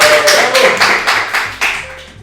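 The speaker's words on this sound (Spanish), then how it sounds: "Un aplauso para Cristina Moyano" A few loud, sharp claps ring out in a steady rhythm and trail off into quiet after a couple of seconds.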